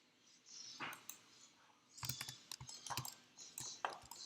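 Bursts of typing on a computer keyboard during 3D character rigging work, clustered clicky keystrokes in short runs separated by pauses, fairly close and moderately quiet.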